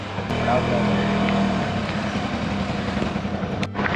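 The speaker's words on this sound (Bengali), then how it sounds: "অটোয় আমরা বসে গেছি, অটোয় যাচ্ছি ভগবতীনগর" An auto-rickshaw heading to Bhagwati Nagar in Jammu, its engine droning steadily and loudly up close with road rumble throughout, voices talking over the motor.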